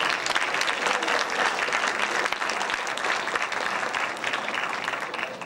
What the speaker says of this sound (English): Let's give language and literature a round of applause.